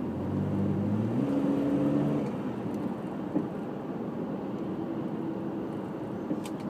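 Jeep WJ cruising with overdrive switched off, a steady engine drone and road rumble; the engine note climbs in pitch over the first two seconds, then settles into a constant hum.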